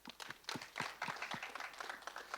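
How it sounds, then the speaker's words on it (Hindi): An audience at a film trailer launch applauds, producing a steady, fairly quiet patter of many hands clapping for a couple of seconds without any talking. "इनके लिए बहुत बहुत तालियां हो जाए एक बार"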